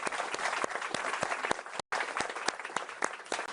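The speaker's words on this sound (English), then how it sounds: "Let's give them a round of applause." Steady applause from an audience at an artificial intelligence summit in Paris, dense clapping throughout with a brief sudden gap midway before resuming.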